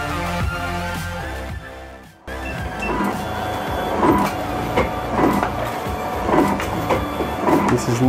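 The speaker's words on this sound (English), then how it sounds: "This is nickel cutting machine." Nickel strip cutting machine in an e-bike battery factory, a loud, steady mechanical whirr with rhythmic clunks repeating about once a second, close, amid busy factory background noise.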